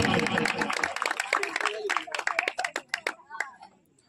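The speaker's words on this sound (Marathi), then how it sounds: "जोरदार टाळ्या, जोरदार टाळ्या, जोरदार टाळ्या" A crowd claps at a nighttime Bhim Jayanti dance competition, a dense burst of applause that thins into scattered, uneven claps fading toward the end, with voices mixed in.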